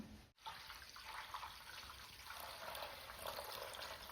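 Starchy water from soaked ration wheat is poured off slowly from a container, splashing steadily, a continuous trickling flow heard close up and fairly quiet, with no talking.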